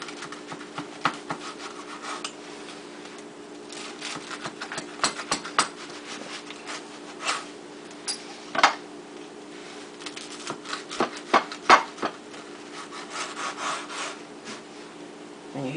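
A knife cuts through crisp food on a cutting board in a home kitchen, giving a quiet, irregular run of crunchy chops and scrapes over nearly sixteen seconds, with no one talking.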